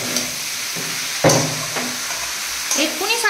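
Leafy greens fry in a hot pan at home, a steady sizzle with occasional stirring scrapes and clatters standing out against it.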